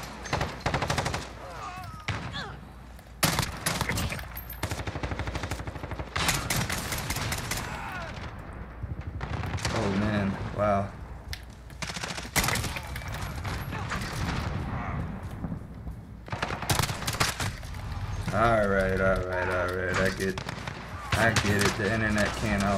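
Burst-fire gunshots in Modern Warfare ring out in repeated rapid clusters of sharp, loud cracks with short gaps between bursts, mixed with game effects and someone talking over the shooting.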